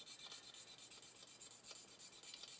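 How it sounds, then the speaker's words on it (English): Sandpaper rubbed back and forth over a metal part of a 1/32 scale Hachette Lancaster B.III bomber model to remove an ejector pin mark, a quiet close rasping in a steady quick rhythm of about ten strokes. "I may as well sand until that ejector pin mark is gone"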